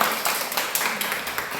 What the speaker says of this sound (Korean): 하나님께 감사 박수하겠습니다